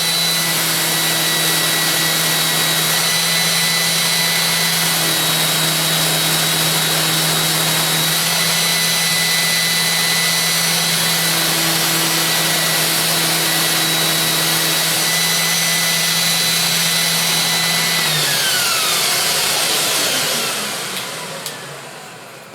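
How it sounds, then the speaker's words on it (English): A power sander runs steadily on MDF, a continuous loud whirring drone with a constant motor tone lasting about twenty seconds before winding down and stopping, no voices. "next step is to do a bit of sanding"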